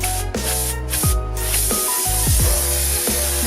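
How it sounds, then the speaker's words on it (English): Brake cleaner sprays onto the hub and dust shield of a Golf R (MK7) during a brake change, a loud, close, continuous hiss with a few brief breaks and pulses in the stream. "Also gonna hit the hub and the dust shield thing with a little more brake cleaner."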